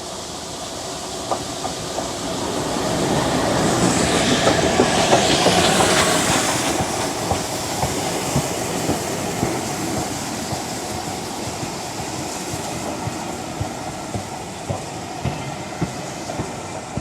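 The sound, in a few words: steam train passing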